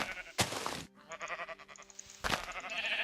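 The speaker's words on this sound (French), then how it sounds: "Un mouton." Sheep bleating in the Minecraft video game, a few short wavering bleats separated by pauses, fairly close and clear with no talk over them.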